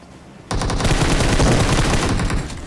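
Automatic gunfire rattles in a mobile battle royale game, a loud, rapid burst close up that starts abruptly and runs for about two seconds, with no talk.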